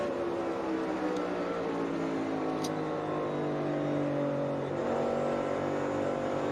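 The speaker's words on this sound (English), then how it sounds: "That'll be number 4 for Berry going around." NASCAR Cup race cars at Richmond lapping during a spin-out, a steady dense engine roar with harmonic pitch lines sweeping down and back up as cars slow and pass, loud and continuous with no talk.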